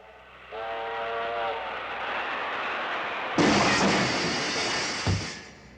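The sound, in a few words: train whistle at railroad crossing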